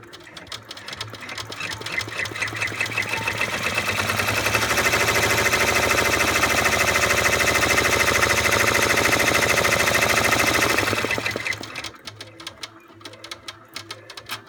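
An embroidery machine stitches a fabric bow held in a hoop, a fast, loud rattling drone that runs steadily for several seconds, then drops away to quieter clicking.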